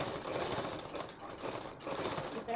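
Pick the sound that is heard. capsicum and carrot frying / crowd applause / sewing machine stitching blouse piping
sewing machine stitching blouse piping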